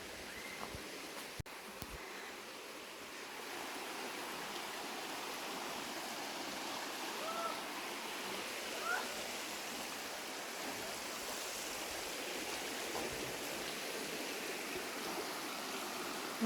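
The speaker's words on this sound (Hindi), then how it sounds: "नीचे एक तरफ भी पानी है" A stream flows beneath a footbridge on a Yorkshire Dales waterfall walk, giving a steady, even rush of water that holds at a constant level with no voices.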